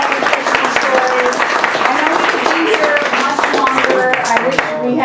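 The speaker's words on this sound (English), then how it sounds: "Let's applaud our panel" Audience at a BAAKP presentation applauding a panel: steady, dense clapping from many hands that fills the room for several seconds without letting up.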